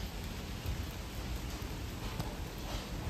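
Steady rain falling outdoors during weather that has turned bad, a dense continuous hiss of drops on surfaces with no talk and no distinct individual drops, fairly close and even throughout.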